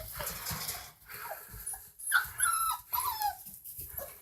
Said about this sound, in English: Puppy attack!